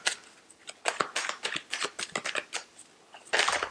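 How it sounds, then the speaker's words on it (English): A deck of tarot cards is shuffled in quick riffling bursts, with brief pauses between, close and fairly quiet. "as I'm shuffling these cards"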